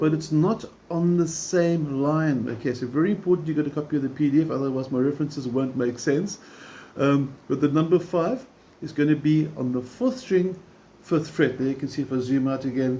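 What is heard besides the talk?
None of the usual background noises is heard.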